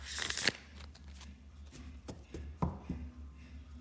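Tarot cards being shuffled by hand, giving a brief burst of riffling crackle near the start followed by scattered soft taps and slides of the deck, close and fairly quiet.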